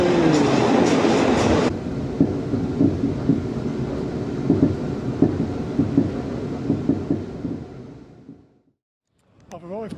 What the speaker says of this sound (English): Oh, it's a new livery South Western Railway train.